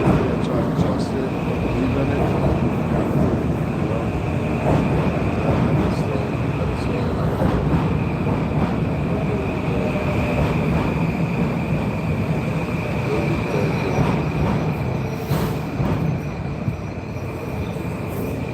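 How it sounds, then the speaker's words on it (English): A passenger train rolls steadily on its rails, with a continuous loud rumble and wheel noise heard from inside the carriage and a faint high squeal in places, without a break. "I'm on the train. I had to hop on the train real quick."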